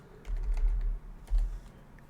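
Quick keystrokes tap on a computer keyboard in two short bursts, close and fairly quiet over a soft background hum.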